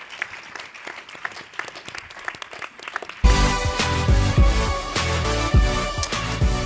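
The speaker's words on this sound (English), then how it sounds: "I'd like to get a round of applause for these guys for a beautiful conversation." Audience applause after a panel conversation on biodiversity regeneration, with scattered claps that swell into loud sustained clapping from a full room over the second half.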